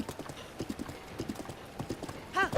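Horse hooves clip-clop at a steady walking rhythm along a road in Zelda Breath of the Wild, the horse wearing armor, with a brief whinny near the end and faint talk underneath.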